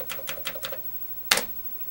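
A series of quick key presses on a repaired Commodore 128 computer keyboard: five rapid clicks in a row, a short pause, then one sharper, louder keystroke, close and clear.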